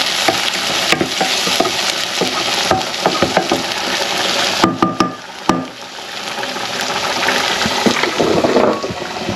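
Tomatoes sauté in a pan with onions for a chicken dish, a loud close sizzle broken by scraping stirs and a few sharp knocks of the spoon against the pan.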